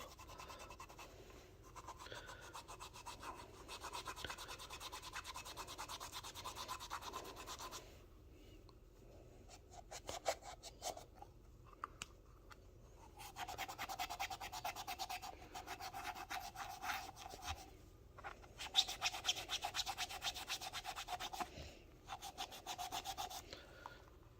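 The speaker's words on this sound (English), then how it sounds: "This shoe here has writing on the bottom. Let's see if the magic eraser will take that off." Magic eraser scrubbing at writing on the sole of a vintage Cabbage Patch doll shoe, producing steady close rubbing strokes in long continuous stretches, broken by brief pauses and light handling taps.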